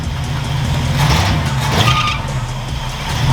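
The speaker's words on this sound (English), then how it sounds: "Hey, rev it up a little bit." Car engine revving during a charging check, with a loose belt on a vehicle in a garage: a loud, steady motor drone rising slightly in surges, close by, with no talk.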